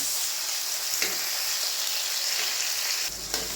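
Tomatoes fry in a pan with a dense, steady, close sizzle that continues without a break. A couple of soft knocks and a brief stir come near the end, and no one speaks.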